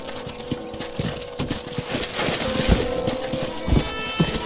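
Horse hooves clip-clop in the Red Dead Redemption video game, a steady run of sharp thuds on hard ground under a busy wash of background game noise, with no talk.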